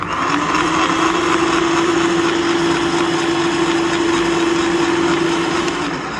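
A DS.758 electric meat grinder runs steadily and loudly for about six seconds, a constant motor whine with a strong sustained hum and no voices over it.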